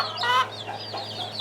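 Backyard chickens, including a full-grown hen, give a brief burst of clucking close by, one sharper call followed by softer murmuring clucks.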